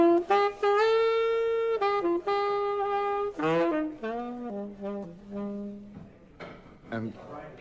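Clean, clear saxophone melody played solo, with sustained notes and short phrases, close and fairly loud.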